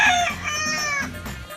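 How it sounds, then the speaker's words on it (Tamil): A chicken clucking close by and loud, a short burst of harsh, throaty calls with no other sound around it. "கோழி"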